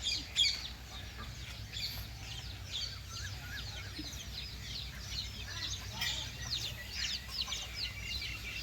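Chickens cluck and chirp repeatedly over a steady outdoor background, fairly close, with a faint voice in the mix.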